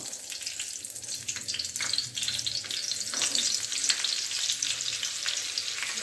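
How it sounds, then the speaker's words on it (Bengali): Butter melting in hot oil in a pan for homemade chicken butter masala gives off a steady crackling sizzle with bright spitting bursts. It is fairly faint and there is no talk. "এবারে তেলে একটু বাটার বাটার দিয়ে দেবো"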